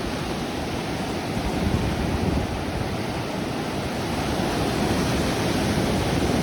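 Ocean surf washing continuously onto a beach during a fishing session, a dense, loud, steady roar of breaking waves with no voices.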